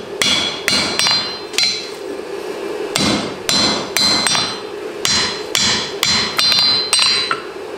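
A hammer flattening rebar for a cleft forge weld, sharp metallic strikes in a fairly steady rhythm of about a dozen blows, loud and close.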